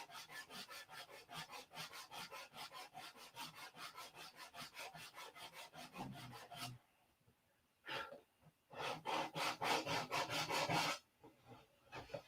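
Sanding a P-47 model airplane fuselage, with close, rhythmic back-and-forth rasping strokes that run steadily, stop briefly, then resume in a second burst of quick strokes with no talk.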